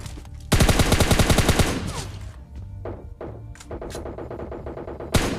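Rapid automatic M4 rifle fire in a video game, a dense loud burst of shots at the start followed by scattered single shots and impacts amid game sounds.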